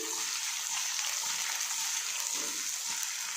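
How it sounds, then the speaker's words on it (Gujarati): Spinach muthiya being stirred and fried in a pan with hing, mustard seeds and cumin, giving a steady, close sizzle with soft scraping stirs throughout. "મુઠિયાને આપણે આ રીતના બરાબર મિક્સ કરીશું"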